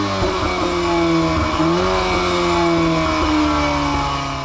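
Volkswagen Golf R four-cylinder with quad exhaust revving, a loud close engine note that climbs, dips briefly and rises again into a sustained buzzing drone.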